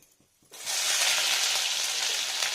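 Ginger paste sizzles in hot mustard oil with sugar, starting suddenly after a quiet moment and then holding as a loud, steady, hissing fry near at hand, with no talking.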